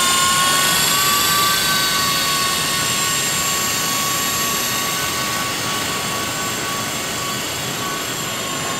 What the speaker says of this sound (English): You can hear the rotor noise on this one. It's big enough you can actually hear rotor noise